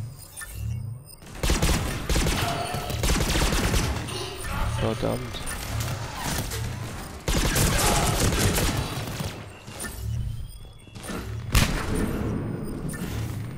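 Automated turret firing in Mass Effect 3, rapid sustained gunfire bursts that fill most of the stretch with loud, dense rattling and impacts, while someone talks over the combat.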